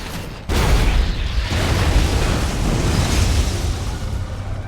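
A large mechanical unit, the Eradicator, blowing up in StarCraft 2: a sudden loud boom followed by a sustained roaring, crackling rumble that holds steady for several seconds.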